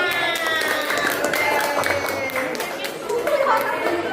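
Children clap their hands during a classroom training activity, scattered sharp claps over lively chatter and voices of a crowd of kids, moderately loud and continuous.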